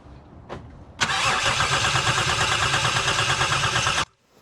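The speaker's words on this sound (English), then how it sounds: "you get someone to crank the engine" A Toyota 1JZ/2JZ engine with an ECU fault cranks on the starter for about three seconds without catching, a loud steady rhythmic churning that cuts off abruptly.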